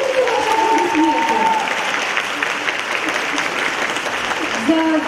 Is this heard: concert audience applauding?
yes